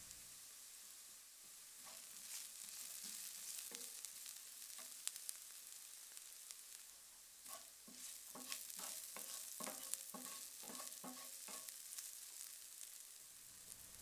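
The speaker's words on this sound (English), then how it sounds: "Season the onions with a bit of salt and pepper and continue to cook until golden and translucent." Onions seasoned with salt and pepper fry in a pan for a plant-based bourguignon, with a soft continuous sizzle and occasional scraping stirs, quiet and close with no talking.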